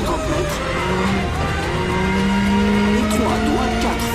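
A Ford Fiesta rally car in the WRC 10 video game drones steadily at high revs with rising engine pitch, loud and continuous under someone speaking.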